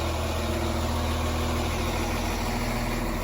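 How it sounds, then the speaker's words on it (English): A stationary train engine idles in Northern Ireland, giving a steady low, droning rumble with a constant hum and no change in pitch across the stretch. "It's strange that they still have our engine switched on."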